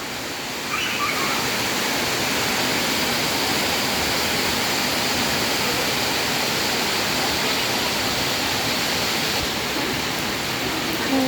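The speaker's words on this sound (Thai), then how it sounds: "ฝนตกแต่มีแสงแดด" Dense, steady hiss of heavy rain pouring down continuously, loud and unbroken for the whole stretch.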